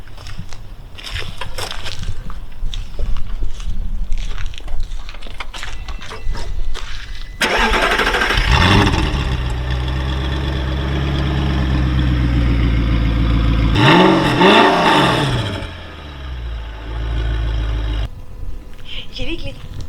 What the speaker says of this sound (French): Est-ce que tu nous la démarres parce que je crois que tu as changé la ligne